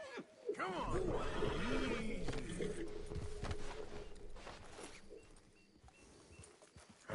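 A horse in the video game Red Dead Redemption 2 whinnies loudly and close, then its hooves clip-clop under a voice with a low game soundscape.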